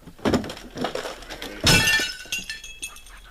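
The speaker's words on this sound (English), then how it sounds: "You busted the entire picture tube." A television picture tube breaks in a comedy radio-style scene, with a few knocks and clatters followed by a loud, close crash of shattering glass and tinkling fragments settling afterward.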